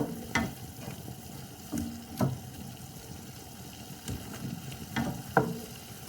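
Broccoli florets stir-frying in a hot sauce for chicken stir-fry, a steady sizzle broken by several sharp scraping stirs and clinks of the utensil spaced through the stretch.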